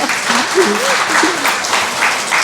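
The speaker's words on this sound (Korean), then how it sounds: "박수 좀 부탁드릴게요." Audience applause at a book concert, steady loud clapping from a crowd with a voice audible over it.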